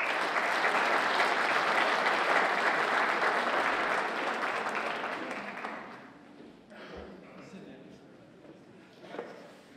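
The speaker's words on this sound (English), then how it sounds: "Big round of applause." An audience applauds at a high school National Honor Society induction ceremony, with dense sustained clapping for about six seconds that then thins out and fades to a few scattered claps, while a voice speaks faintly.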